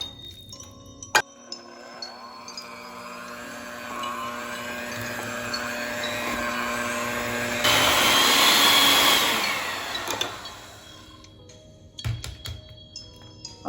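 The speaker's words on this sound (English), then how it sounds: "then you can use your mixer to mix it up thoroughly" Electric hand mixer beating pastry dough for Hungarian kifli cookies, a high whining motor that rises in pitch and grows louder with heavier churning, then cuts off, with clicks and bowl knocks before and after.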